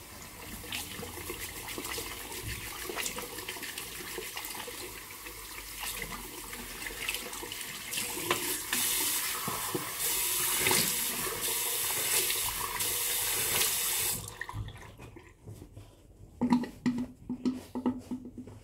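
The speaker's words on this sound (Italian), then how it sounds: "Con acqua fredda adesso per chiudere bene i pori" Cold tap water runs steadily into a bathroom sink as a face and shaving tools are rinsed, a broad hiss that stops sharply near the end and leaves a few soft splashes and handling sounds.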